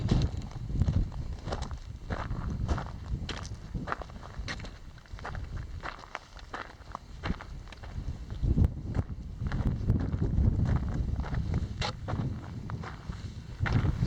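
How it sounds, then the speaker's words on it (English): Wind blowing steadily outdoors at a mine site near Tecopa, California, with a continuous broadband rumble and buffeting across the whole stretch, mixed with crunching footsteps and scattered clicks. "A little breezy today."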